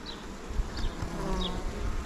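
Honeybees cluster under the roof of a nucleus hive, giving a steady close buzzing drone with a few individual bees whining past.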